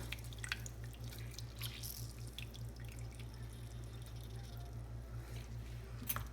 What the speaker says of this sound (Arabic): عصير نص ليمونة.